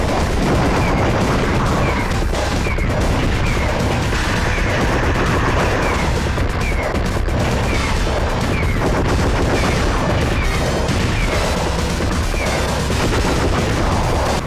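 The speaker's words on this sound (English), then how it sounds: "Everything around you is booming or bursting or collapsing in the grandest fashion." A PlayStation shoot 'em up in the style of Metal Slug, with dense, continuous bursts of rapid gunfire and booming explosions layered over loud game music for the whole stretch.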